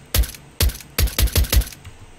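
New USP pistol sound in Counter-Strike: Global Offensive: five sharp, muffled, evenly spaced bursts with a quick rhythm, close and fairly loud, with no talking.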